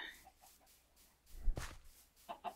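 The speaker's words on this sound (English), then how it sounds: "Maybe that's just a loose chicken." A loose chicken clucking outdoors, a few soft clucks and short calls near and far, fairly faint, with a low thump in the middle.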